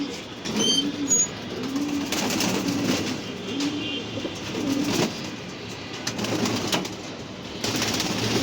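Pigeons, kept as racing birds, coo softly in repeated low phrases on a rooftop, with faint background noise and occasional distant sounds around them.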